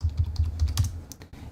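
Brief, close clatter of keys on a computer keyboard, a quick burst of about a dozen light taps in uneven rhythm, with no talking.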